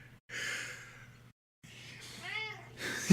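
A pet cat meows close to the microphone, a single drawn-out, wavering call after a couple of breathy, hissing sounds, with a brief clatter at the end.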